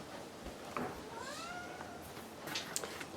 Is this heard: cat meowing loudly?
yes